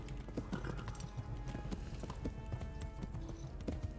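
Horse hooves clip-clopping at a gallop in the medieval game Kingdom Come: Deliverance, a steady rhythmic beat of hoof strikes over low background game sound, with an occasional faint whinny.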